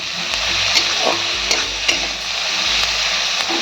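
Pointed gourd (potol) fries in a pan for potoler dorma, a close continuous sizzle broken by a few light clinks of stirring, with no speech.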